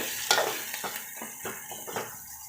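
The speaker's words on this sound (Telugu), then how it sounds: "పచ్చిమిర్చి అనేది కొంచెం ఫ్రై అయిన తర్వాత మనము ఆనియన్స్ వేసుకున్నాము" Onions and green chillies sizzle in a pan while a spoon stirs them, with several scraping strokes over a steady frying hiss, close and clear with no speech.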